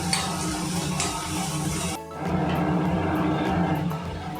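Onion frying in a pan without oil, a steady sizzle mixed with stirring and scraping against the pan, briefly interrupted before resuming.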